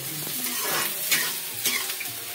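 Onions fry in hot oil for a biryani, a bright close sizzle with quick stirring scrapes and a couple of sharper spatters.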